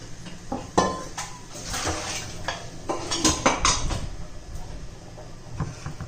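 Boiled potatoes being taken out of a pressure cooker in a home kitchen, heard as a series of close, loud metallic clanks and scrapes of pot, lid and utensils, with irregular knocks spread across the stretch and no talking.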